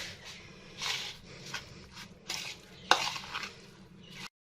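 A spoon stirs salt and red chili powder in a bowl for a shawarma sandwich filling, making a quick run of close scraping, clinking strokes that ends abruptly.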